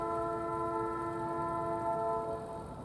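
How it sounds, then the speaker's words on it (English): A Metrolink commuter train sounds its horn while passing, a sustained multi-tone chord held steadily and fairly loud over rail rumble, easing off slightly at the end. "I guess that's what Metrolink sounds like."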